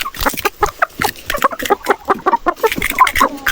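Several chickens cluck and chatter close by in quick, overlapping bursts, a busy stream of short calls with no talking.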